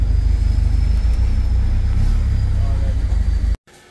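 A car engine idles loudly with a deep, steady low rumble, then cuts out abruptly as it is switched off at the top of a steep hill.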